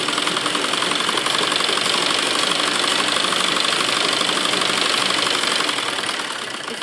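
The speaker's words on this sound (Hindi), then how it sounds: "तो डबल सिलाई हम इस पर लगाएंगे।" A sewing machine runs continuously with a rapid, even mechanical rattle while double-stitching a heavy, fancy lined suit. The stitching is close and steady throughout and tapers slightly at the end.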